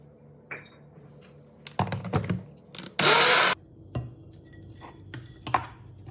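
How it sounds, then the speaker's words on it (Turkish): A food processor grinds oat biscuits with melted margarine in one loud, harsh half-second whir, surrounded by scattered clicks and clatter of the lid and bowl. "Üzerine yağı ekleyip tekrar geçiriyoruz rondodan."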